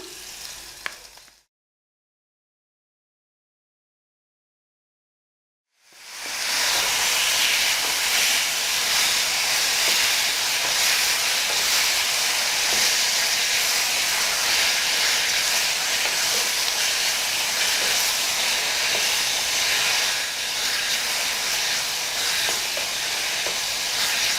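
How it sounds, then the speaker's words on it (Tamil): Tomatoes sauté in hot oil in a pan for a coconut-milk egg curry, giving a loud, steady, hissing sizzle that runs unbroken for most of the clip after a brief stretch of silence near the start. "தக்காளி கொஞ்சம் வதங்கட்டும்"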